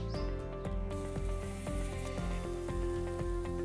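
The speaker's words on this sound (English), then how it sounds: "I'm going to skewer it and grill it on high heat" Cubed pineapple on skewers sizzling on a grill over high heat, a steady close hiss and crackle with faint ticking, no talking.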